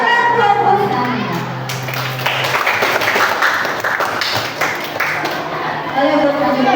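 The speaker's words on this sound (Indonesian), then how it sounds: "Beri tepuk tangan buat Busania." Clapping from a small group breaks out over music and chatter, mixed with voices and cheers in a lively room.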